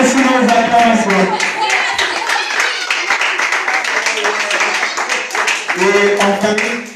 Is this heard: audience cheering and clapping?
yes